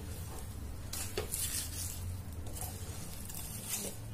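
A spoon works through a sticky date and dry-fruit laddoo mixture in a pan off the heat, giving soft scraping and clinking strokes at a steady pace, close up and with no talk.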